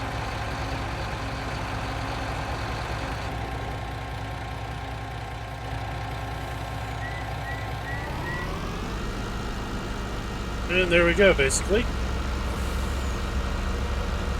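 The diesel engine of a Lizard Truck 470 excavator in Farming Simulator 19 runs steadily at idle, dips in pitch and then settles, with brief hissy mechanical chatter near the end and a voice speaking briefly.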